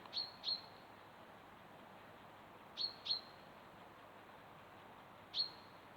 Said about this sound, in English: a couple of coal tits right in front of me